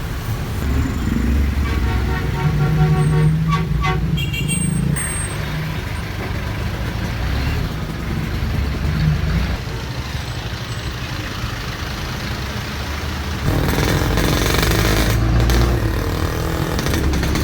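Busy traffic on a Philippine road heard from inside a jeepney, a steady loud rumble of engines with truck and motorcycle noise, a couple of short horn toots and a brief hiss like an air brake.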